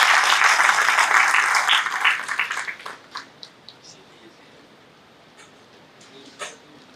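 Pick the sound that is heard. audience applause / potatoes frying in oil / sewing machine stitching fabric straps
audience applause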